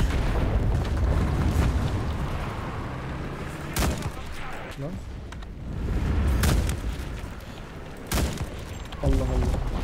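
Bombs explode in the WWII shooter Enlisted, heavy booms landing near and far amid constant rumbling battle noise and scattered gunfire, with a few sharp blasts standing out.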